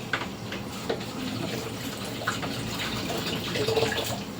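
Water poured by hand from a container for washing, splashing and trickling steadily where there is no tap water, with occasional louder splashes and drips, close by.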